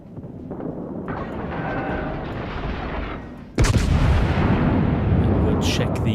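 Battleship main guns firing at the Wyoming in a naval video game, a low rumbling build-up followed by a sudden heavy cannon blast that booms and rolls on loudly to the end.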